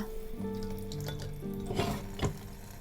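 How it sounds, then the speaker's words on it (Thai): Tap water runs steadily over seed pods of a Gymnocalycium cactus being rinsed at a sink, a continuous close splashing stream with a few brief clinks, no talk. "เปิดน้ำไหลผ่านแบบนี้นะคะ"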